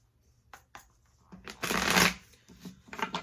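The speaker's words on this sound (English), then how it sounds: "let me go ahead and give this deck a good shuffle" A tarot deck gets shuffled in a few quick riffling bursts, close and crisp, building to one longer dense flutter of cards before trailing off into short taps.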